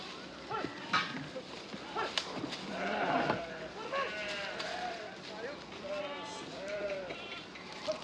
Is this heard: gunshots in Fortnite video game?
no